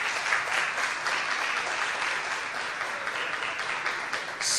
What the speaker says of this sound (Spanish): le damos a todos un aplauso por su juego